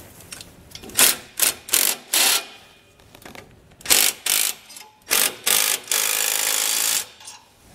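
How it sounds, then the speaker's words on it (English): Quick bursts of a ratchet clicking close by tighten two large carriage bolts on Air Lift LoadLifter 5000 rear air helper springs on a 2020 Ford F-250, in about a dozen short runs with pauses between them. "we can go ahead and tighten down our two large carriage bolts there"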